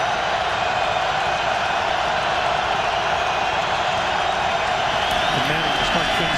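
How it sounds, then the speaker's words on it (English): A loud, vocal Baltimore football crowd at a Colts–Ravens stadium game roars steadily throughout, a dense wash of cheering under commentary. "Once again, the very vocal Baltimore crowd."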